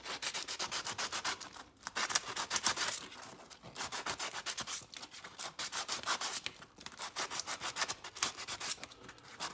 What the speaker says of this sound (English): I'm going to sand it just to give some better adhesion.